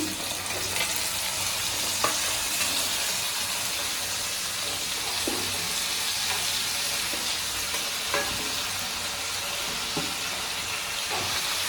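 Moringa drumsticks fry in a pan with a constant, even sizzle and hiss, broken by occasional soft clicks from stirring. No one speaks.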